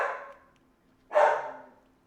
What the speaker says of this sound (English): Dear Lord, dogs, please, I'm trying to be dramatic.